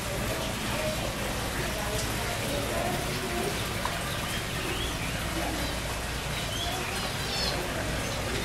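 Birds calling and cooing inside a large free-flying indoor aviary at Bird Kingdom in Niagara Falls, scattered chirps and coos over a constant wash of background noise, with voices murmuring underneath.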